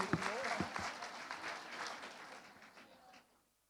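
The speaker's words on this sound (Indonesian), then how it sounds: "Tepuk tangan untuk Bapak dan Ibu semua." Applause from the audience at a Halal Bihalal gathering, moderate and somewhat distant, with a voice over it at the start, fading out toward the end.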